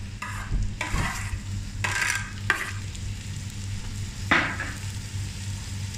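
Tomatoes tipped into ginger garlic paste frying in a pan for Malabar chicken biryani, then stirred: a steady low sizzle runs throughout, broken by several bursts of scraping and stirring, close and fairly quiet, with no talking.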